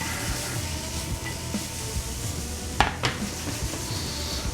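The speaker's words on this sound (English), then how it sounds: "Give a little stir." Shallots and red onions seasoned with salt and pepper cook in a pan, with a low continuous sizzle and a couple of sharp utensil scrapes and clacks against the pan as they are stirred.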